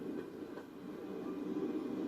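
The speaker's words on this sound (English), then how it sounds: "because the weather is so dry and the fear of fire high, the diesel locomotive does the job" A diesel locomotive hauls six locomotives along rails in dry weather, giving a steady low rumble and rolling rail noise that holds constant throughout at moderate distance, with no voices.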